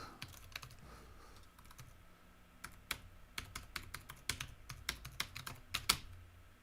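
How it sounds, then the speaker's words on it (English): Keys on a computer keyboard are mashed in rapid, irregular bursts of sharp clicks and clacks, close and fairly quiet, with no one talking. "I shouldn't have just mashed keys."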